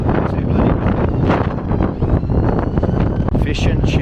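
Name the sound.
strong wind blowing on the seafront in Brighton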